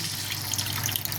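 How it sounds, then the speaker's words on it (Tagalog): Water poured into a cooking pot while making a vegetable sweet and sour dish, a close, steady splashing stream with no voices. "Tubig."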